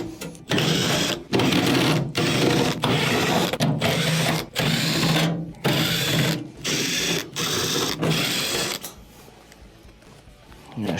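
Quarter-inch screws backed out of a refrigerator's rear bottom cover with a power driver, loud buzzing whirs in repeated bursts separated by brief pauses, close up, ending with quieter handling.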